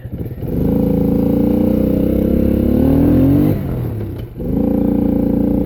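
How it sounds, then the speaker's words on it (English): A Yamaha Raptor 80 ATV engine pulls hard under load in second gear, a loud, close droning rev that climbs in pitch, briefly sputters and dips, then picks back up to a steady drone. "Even high load like that in second gear. Little sputter, I heard that one."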